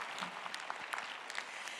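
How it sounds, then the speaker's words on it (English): A church congregation claps at a Sunday service to welcome first-time guests, a brief patter of scattered applause heard quietly from some distance. "yes, we can applaud the first-time guests."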